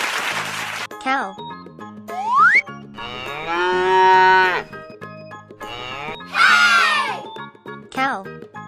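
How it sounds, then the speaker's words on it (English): A toy cow gives several drawn-out moos, repeated loud calls alternating with bursts of playful synthetic sounds and chatter. "Cow."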